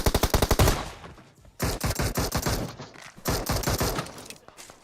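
Gunfire in the mobile battle royale game PUBG Mobile: two rapid automatic bursts separated by short pauses, loud and close, with no talking.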